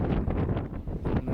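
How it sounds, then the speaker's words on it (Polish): Strong wind buffets the microphone at the edge of a huge cliff drop, a loud, continuous low roar and rumble with gusty surges and no other sounds. "Wiatr ma w plecy, także mnie troszeczkę popycha tutaj w tą przepaść."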